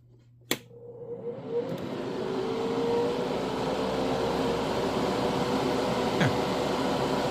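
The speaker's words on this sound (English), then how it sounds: "let me just turn on the fan, make sure it sounds okay" A click, then a steady mechanical whir spins up and holds, with a low hum and faint rising tone, like a small electric fan running nearby.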